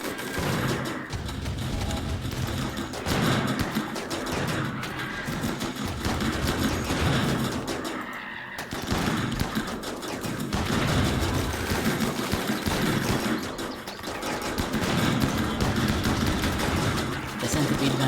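Centipede gunner firing in RimWorld, dense rapid machine-gun bursts rattling continuously with a brief pause midway, a mechanical engine drone beneath.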